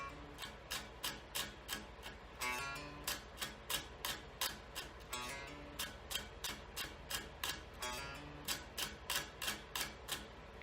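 Crisp, percussive plucked notes from an unamplified electric guitar, a fast repeating riff with hammer-ons in a regular rhythm, thin and close.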